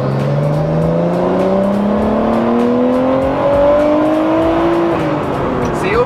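Turbocharged RB25 six-cylinder engine in a rear-wheel-drive car revving up, pitch climbing steadily under load for several seconds before easing off, loud and close with a rhythmic ticking overlaid.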